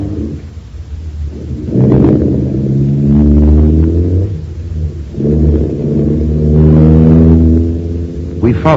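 Radio-drama car engine turning over and pulling away, a low motor rumble that swells twice as it revs and drives off, loud and close with no talk over it.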